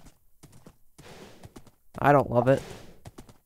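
Horse in the Minecraft video game giving soft, hollow clip-clop hoof taps scattered through the moment, underneath people chatting and one louder voice speaking over it.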